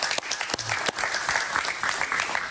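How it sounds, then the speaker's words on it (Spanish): Studio audience applause welcoming an author onto a television interview program, a brisk, dense clatter of clapping that holds steady for a couple of seconds. "Un aplauso para él, por favor"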